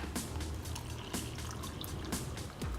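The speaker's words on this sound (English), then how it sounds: "pour your hot boiling water into the cup" Hot boiling water pours and splashes steadily into a cup for making slime, a continuous liquid rush with small drips, fairly faint.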